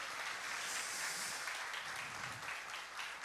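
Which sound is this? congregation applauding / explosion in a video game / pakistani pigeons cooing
congregation applauding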